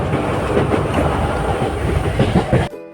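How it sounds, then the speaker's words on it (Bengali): Passenger train rolling along the rails on a journey to a relative's home, a steady rumble with rhythmic wheel clatter filling the clip up close before cutting off abruptly near the end. "আর এখানে আয়ুষ ট্রেনে খুব মজা করতে করতে দাদা ভাইয়ের বাড়ি যাচ্ছে।"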